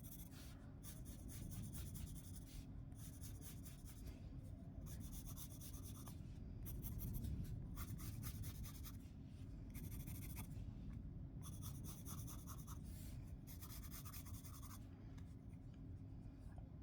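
Pencil scratching across paper in steady strokes during beginner practice drawing of stacking tables, a continuous soft rasping rub with rhythmic bursts, close and quiet with no talk.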